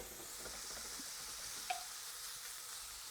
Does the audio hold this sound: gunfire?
no